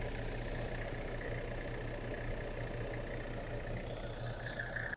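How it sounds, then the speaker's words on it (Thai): A Toyota Commuter van's 5L diesel engine idles steadily at close range, a continuous even rumble with a faint rhythmic knock and no speech. "เครื่องยนต์แห้งๆ เลยนะครับ นิ่งๆไม่สั่นไม่สะดุด"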